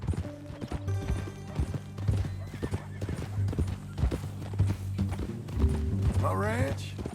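In Red Dead Redemption II, horse hooves clip-clop steadily close by while a horse neighs near the end, with speech and background music over the top.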